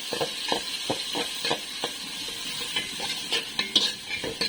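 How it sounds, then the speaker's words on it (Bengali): Onions frying in a pan for pulao give a moderate sizzle under repeated sharp spatula scrapes and clinks against the pan, which tap out a loose, uneven rhythm. "এদিকে এখন পেঁয়াজ দিয়ে দিচ্ছে পোলাওর জন্য।"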